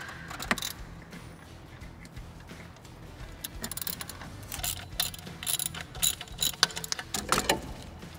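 Ratchet wrench backing out two 13 mm bolts on a support bracket for the intake ducting of a Ford F-150, with close, rapid clicking bursts and short pauses that build toward the end.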